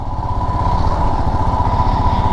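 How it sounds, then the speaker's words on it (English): A Royal Enfield Himalayan BS6 motorcycle engine thumps steadily at idle, a loud, close, rhythmic single-cylinder pulse with no talk over it. "Let's start it on this motorcycle."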